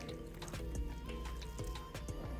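Water poured into a pot of githeri, a Kenyan maize and bean mixture, giving a steady liquid splash with a few bright clinks and drips over a low cooking hum.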